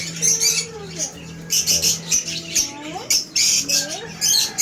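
A medium pet bird squawks repeatedly and shrilly at close range during hand-feeding, in short rising bursts with brief pauses, and a person talks at times alongside it.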